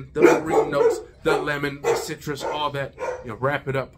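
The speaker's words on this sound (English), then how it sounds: "Pardon the dogs. They're barking at the Mr." Dogs bark indoors in short bursts beneath a person's steady talking, the barks mixed into the speech rather than standing alone.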